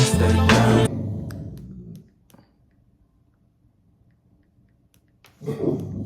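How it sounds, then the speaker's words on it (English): A dog barks loudly in a quick burst, then a low growl trails off into near silence before more barking erupts at the end. "what are you barking, growling at?"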